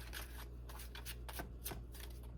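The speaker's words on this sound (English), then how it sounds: "let's go ahead and pull some more cards" Tarot cards being shuffled close up, a quiet crisp riffling with repeated papery bursts and flutters over a low background hum, no talking.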